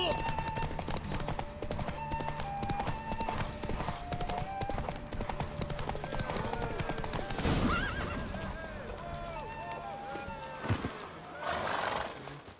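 A horse whinnies and hooves clatter in a galloping rhythm amid The Witcher 3: Wild Hunt game sound effects and background music, fairly quiet overall.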